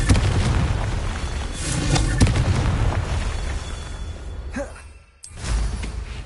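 Confringo fire spell blast in Hogwarts Legacy, a loud rumbling explosion that roars and fades over several seconds, drops to near silence, then another booming burst follows.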